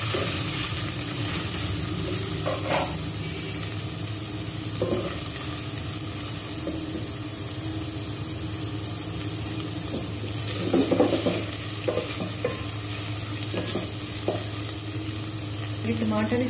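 Shredded chicken and garlic sizzle steadily in a hot pot while being stirred, with a constant frying hiss and occasional scraping clatters of the spoon against the pot.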